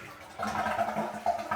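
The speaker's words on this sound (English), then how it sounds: "I'm going to flush." A household toilet flushes just after a running-toilet repair: a steady rush of water starts abruptly, stays at an even, moderate level close by, and swells slightly near the end.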